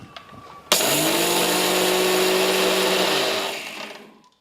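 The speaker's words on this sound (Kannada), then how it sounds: "ಈಗ ಮುಚ್ಚಳ ಮುಚ್ಚಿ ನುಣ್ಣಗೆ ರುಬ್ಕೋತೀನಿ ನೋಡ್ರಿ." A mixer grinder pulverises moong dal into fine powder: a loud whirring roar starts abruptly, holds steady for about three seconds, then winds down, with no talking.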